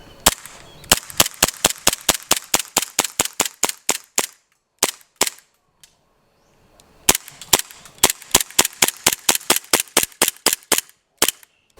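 A BB pistol fires at a target about ten to twelve metres away, producing rapid runs of sharp snapping cracks, two long strings of evenly spaced shots separated by a short quiet gap.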